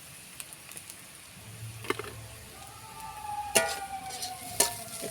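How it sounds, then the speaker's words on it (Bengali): Cabbage with turmeric powder and salt is stirred in a pan for a cabbage bharta: quiet, soft scraping and light sizzling, with a few sharper spoon clinks against the pan near the end. "একটু নেড়ে নেব।"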